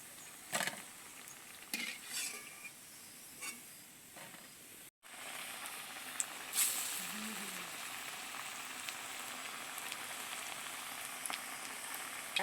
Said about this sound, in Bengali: বেশ সুন্দর করে ভেজে নিয়েছি, এবারে তেল ঝরিয়ে তুলে নিচ্ছি।